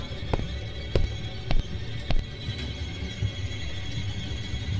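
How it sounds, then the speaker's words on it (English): Heavy banging on a door inside a horror video game, about five loud thuds at uneven intervals of roughly half a second over a low, droning ambience. "Why was he banging on the door?"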